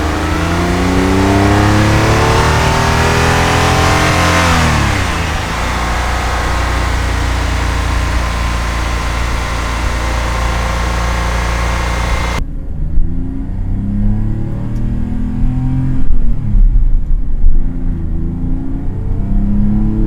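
A Porsche 997 engine revs and accelerates loudly, pitch sweeping up through the gears, then continues at a lower, muffled drone as if heard from inside.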